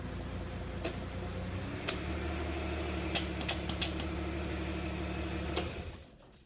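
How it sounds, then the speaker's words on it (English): A TH400 automatic transmission runs on a transmission dyno with a steady mechanical drone and hum, punctuated by several sharp clicks and ticks, before winding down to quiet at the end. "we ran this transmission on the dyno"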